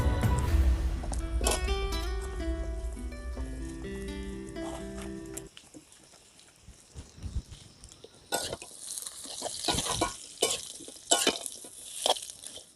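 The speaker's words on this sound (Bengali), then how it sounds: "এবার আমগুলোকে আমি ভেজে নিব।" Raw mango pieces fry in a pan for a sweet, sour and spicy pickle. A soft, steady sizzle with scattered scrapes begins partway through, after a stretch of music, and grows busier toward the end.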